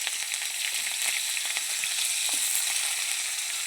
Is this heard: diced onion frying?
yes